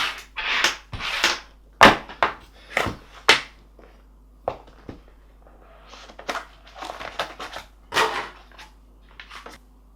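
Packaging for waterproof headphones being opened: crinkling, tearing and crunching of cardboard and plastic in irregular close bursts, with a few sharp snaps.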